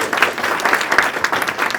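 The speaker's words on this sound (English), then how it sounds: "everybody please give a big round of applause" A short burst of audience applause for a state representative at a Punjabi community declamation contest, many hands clapping in a quick, lively patter with crisp individual claps standing out.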